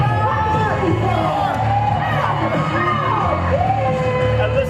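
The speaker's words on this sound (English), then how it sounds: "listen to this crowd go a little bit crazy" A wrestling crowd at a UKW event cheers and whoops continuously, with shouts and high yells rising over a steady roar of voices throughout.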